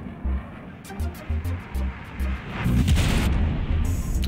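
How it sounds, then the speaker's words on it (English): Four size-four missiles striking an Aquila ship in a space video game: a string of short booming thumps at an uneven pace, then a louder sustained rumbling blast with crackling debris that fades out. "We are shooting four size four missiles one more time"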